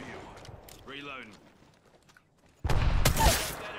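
Apex Legends gunfire bursts loudly at the end, a dense volley after a quieter stretch with brief voices and game sounds.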